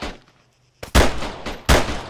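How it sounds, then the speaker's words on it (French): Loud, close gunshots from a military shooter video game ring out: two heavy blasts with reverberant tails after a short quiet gap, no voices. "Autorisation accordée, feu à volonté."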